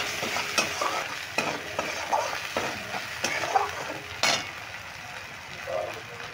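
Ground cumin, coriander powder and a pinch of sugar fry in a pan for moong dal kachori filling, a steady sizzle broken by repeated scraping and stirring strokes of a spatula, close up.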